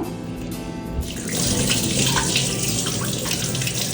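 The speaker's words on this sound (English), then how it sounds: "So I throw the water now." Soaking water drains from washed semi-parboiled rice for Mangalore-style sanna, a steady rushing pour like a running tap into a sink, continuous and fairly close, with no talk.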